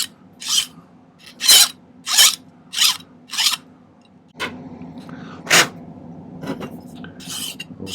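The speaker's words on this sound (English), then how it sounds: "I did some filing and I finally got it down to kind of tapered down like that." Hand filing of a silver ring tube to taper it, a series of short, crisp rasping strokes close up, each separated by brief pauses, with a few fainter scrapes later over light background hum.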